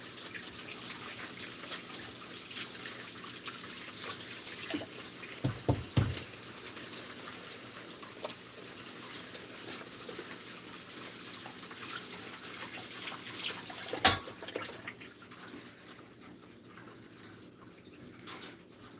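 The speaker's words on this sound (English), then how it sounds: "So I usually clean my hands like at least twice. Really good with soap and water right afterwards." Soft, steady tap water runs for hands being washed with soap, with a few brief knocks partway through and a sharper clunk near the end before the flow fades.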